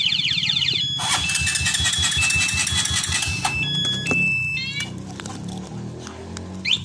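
A Honda XRM 125 motorcycle, fitted with a carburetor and a one-way alarm, cranks and fires into a steady close engine idle, while high electronic alarm beeps chirp over it at the start and midway.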